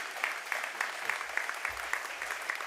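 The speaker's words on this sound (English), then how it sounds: "he deserves a big round of applause" Audience applause at a business leadership masterclass, a steady even patter of many hands clapping, moderately distant and fairly soft, with no voices over it.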